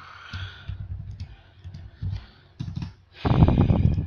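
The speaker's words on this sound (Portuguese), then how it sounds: "dá para vocês ouvirem o barulho do clique aqui" Close-up computer clicking and keyboard tapping, with scattered light clicks that end in a louder, dense burst of key clatter.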